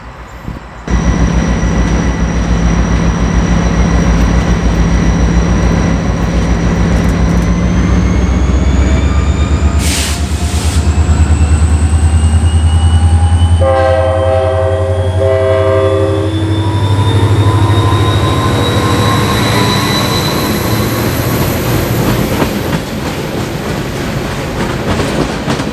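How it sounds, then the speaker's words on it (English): An EMD diesel locomotive idles, then its engine throttles up into a deep rising roar, and a loud multi-tone horn blasts for several seconds before the engine keeps pulling. "the train throttles up, creating nice EMD sounds, and the engineer gives a nice horn salute."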